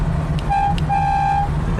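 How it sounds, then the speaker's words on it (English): A 1978 Ferrari 308 GTB horn sounds two steady tonal blasts, a short one then a longer sustained one, loud and close over a low idling engine rumble. "And the horn on this thing is amazing."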